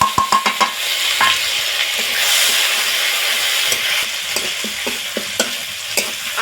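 Ginger garlic paste sizzles with a bay leaf in hot oil, a steady loud frying hiss with scattered clinks and scrapes of a spatula stirring in the pan, no talking.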